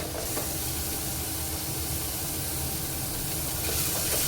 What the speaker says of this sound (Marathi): घरचं काळं तिखट ॲड करून पुन्हा छान हे मसाल्याला परतवून घेते